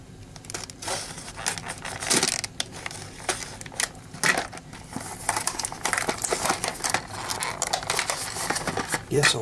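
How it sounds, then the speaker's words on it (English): A knife cuts into the plastic packaging of a Transformers Authentics Bravo Barricade figure, giving dense crinkling and crackling with sharp snaps throughout, close and fairly loud. "Get our knife out and we'll see if we can open this up for you."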